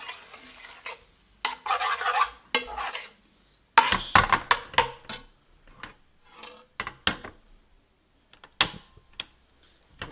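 Chicken jalfrezi curry being stirred in a pan, with a run of close scraping, clattering spoon strokes in irregular bursts separated by short quiet gaps, no sizzle underneath.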